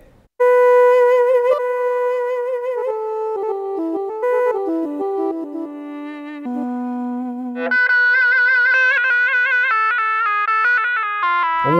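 Exotic, ethnic-flavored synth voice on a Yamaha Motif XF workstation, a bright plucked, bell-like tone playing a winding melodic phrase that steps downward, then jumps into a higher, denser shimmering passage, loud and alone.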